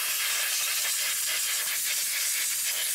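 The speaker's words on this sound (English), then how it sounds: "Blow around the injectors with compressed air." Compressed air blows around the fuel injectors of a car engine, a loud, steady, close hiss that runs the whole time and cuts off abruptly at the end.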